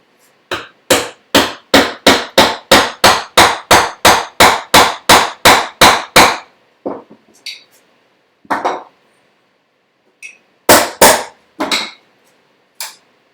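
Wood chisel struck with a mallet to chop waste from a mortise for a tusk tenon, a fast even run of about eighteen sharp blows followed by a few scattered, separate strikes, close and loud with no talking.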